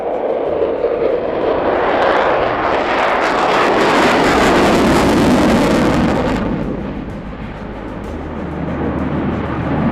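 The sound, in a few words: jet fighter aircraft engine during air show display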